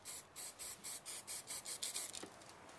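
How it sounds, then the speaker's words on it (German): A spray paint can hisses out a steady series of about nine or ten short, evenly spaced bursts, each a crisp airy spurt close by, while an artist sprays a piece. "Hört auch einfach mal, wie ich spraye, ja? Kurze Sprühstöße."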